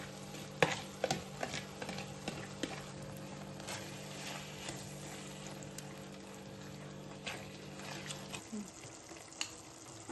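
Potato-and-pea mash is stirred into pav bhaji in a pan, faint scraping and soft squelching strokes with occasional sharp taps, over a steady low hum that stops near the end, no speech.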